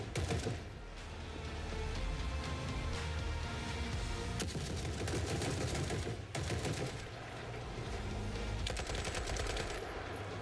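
Squad gunfire in The Forever Winter rattles almost without a break, with dense automatic bursts and sharp single cracks at a moderate distance.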